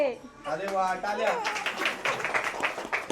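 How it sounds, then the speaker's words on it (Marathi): A brief burst of clapping at a traditional Agri naming ceremony (barsa) breaks out amid close, lively talk, with scattered claps running under the voices. "अरे वा टाळ्या."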